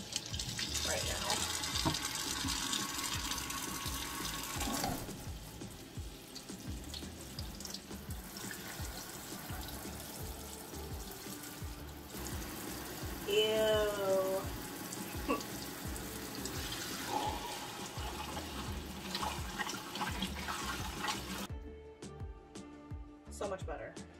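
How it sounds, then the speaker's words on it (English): Tap water runs steadily into a sink while plant roots are rinsed under it, a continuous splashing rush with small shifts in tone and a few brief thumps near the end. "definitely we're going to rinse it"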